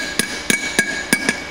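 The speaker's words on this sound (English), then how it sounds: "I got a socket that's just a little bit almost the same size, and just tap it in there." A steel socket is tapped against a wheel bearing to drive it into a rear drum brake hub, giving five sharp, close metallic knocks at an uneven rhythm with nothing else around them.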